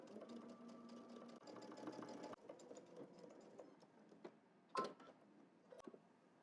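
A sewing machine runs a straight stitch across fabric in steady mechanical bursts with short pauses, fairly quiet and close, with no talk.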